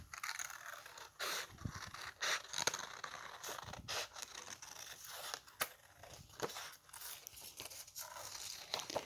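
Scissors snip and crinkle through paper while cutting out a lion head shape for a collage, a series of close, quiet cuts and rustles at an irregular pace.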